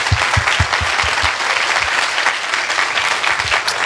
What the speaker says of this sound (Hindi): आइए हम अपने लीडर्स के लिए अच्छी ताली बजाएंगे।